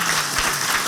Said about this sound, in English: please give me a round of applause for our nice panelists